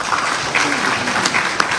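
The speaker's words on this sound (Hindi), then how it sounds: "ताली बजाओ" Audience applause at a spiritual discourse and question session in New Zealand: steady, dense clapping from a crowd, loud and continuous throughout.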